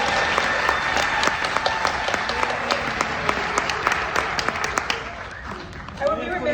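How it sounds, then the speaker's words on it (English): An audience applauds at a film festival opening night, a dense sustained burst of clapping that holds steady and then thins out near the end. "Let's give them a round of applause."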